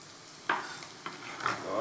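Sliced mushrooms with thyme, butter and oil sizzle in a saucepan, a soft steady frying hiss broken by a few brief stirring scrapes, close and quiet.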